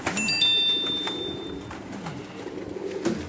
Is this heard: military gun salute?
no